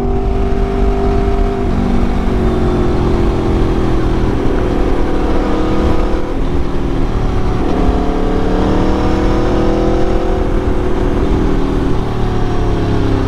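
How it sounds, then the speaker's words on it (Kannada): A vehicle engine accelerates hard and loudly close up, its whirring tone climbing in pitch, dropping back and rising again through several surges with no speech. "ನೀವು ಆಕ್ಸಿಲರೇಷನ್ ಕೊಡೋದೇ ತಡ, ಗಾಡಿ ಹಂಗೆ ಬುಲೆಟ್ ಥರ"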